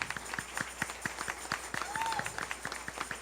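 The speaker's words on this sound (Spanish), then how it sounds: "Les invito a que le demos unas fuertes palmas de agradecimiento" Church congregation giving a round of strong applause, rhythmic unison clapping at a steady beat, fairly distant in a reverberant room, with a voice speaking faintly over it.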